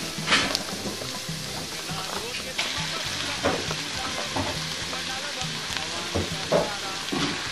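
Beef browning in a big heavy pan for curry, a steady loud sizzle and crackle of frying meat with occasional stirring scrapes throughout.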